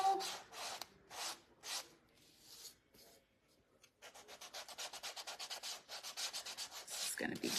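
Wood is sanded by hand in rhythmic back-and-forth strokes, a few slow rubs, a brief pause, then a quicker steady run of scratchy passes.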